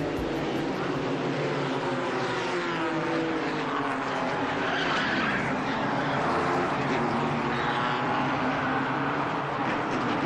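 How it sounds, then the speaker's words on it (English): Stock cars crashing and skidding through Turn 1 at Charlotte Motor Speedway, a thirteen-car pileup: a dense, continuous roar of engines and grinding noise, loud and steady throughout with no talk. "13 cars go sprawling across the Charlotte Motor Speedway after the mishap in Turn 1."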